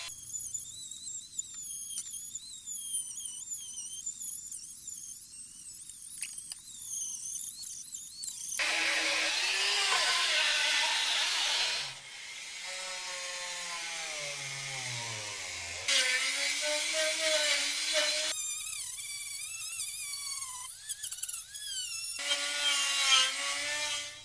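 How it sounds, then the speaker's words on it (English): Rotary tool with steel wire bits scrubbing old gasket residue off a metal part, a high whining grind whose pitch rises and falls with load in several long passes, alone without talk. "I then finished it off with the rotary tool and steel wire bits, making sure to remove any old leftover gasket"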